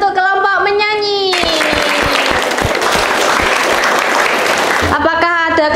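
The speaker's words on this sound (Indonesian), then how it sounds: "Beri tepuk tangan untuk kelompok menyanyi." A classroom of students claps for a singing group, a dense burst of applause lasting a few seconds with speech before and after.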